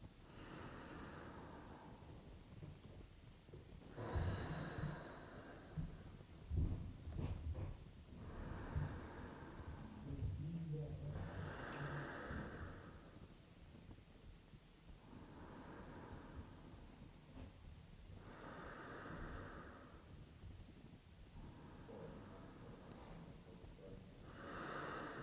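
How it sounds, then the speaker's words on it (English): Slow yoga breathing through the nose, with long drawn inhales and exhales repeating in an even rhythm, close and soft. "Inhaling and exhaling with intention"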